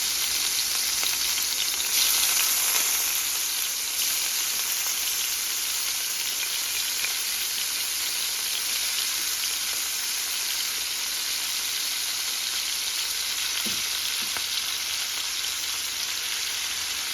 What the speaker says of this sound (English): we're gonna get our shrimp in this pan